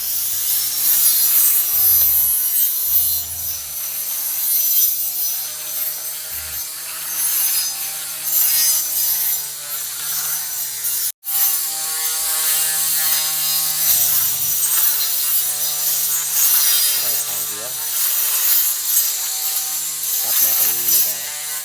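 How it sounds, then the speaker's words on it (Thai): A battery-powered electric grass cutter fitted with a circular saw blade chews through a dense clump of tall grass, giving a steady, loud, rasping mechanical whir with a ratcheting texture that dips briefly once. "เรามาเริ่มกันที่ใบเลื่อยวงเดือนเลยนะคะทุกคน สำหรับเจ้ากอหญ้าหม่องนี้นะคะ เราจะมาดูประสิทธิภาพของใบเลื่อยวงเดือนกันค่ะ"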